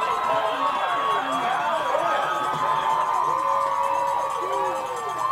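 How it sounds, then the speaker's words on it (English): A high school football crowd at a home game cheers and shouts steadily after a touchdown, a dense continuous roar of many voices with scattered whoops, with commentary voices mixed in. "Give the fans something to cheer about."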